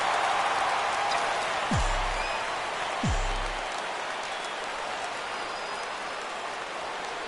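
A PS4 baseball video game stadium crowd roars in a steady wash of cheering and applause that carries through the clip, with two low swooping game sounds near the start.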